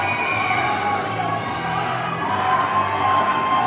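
A pro wrestling crowd cheers for Beastman at an RWA Bloody Harvest event, a sustained roar of shouts and whoops from a packed arena that stays loud and steady throughout.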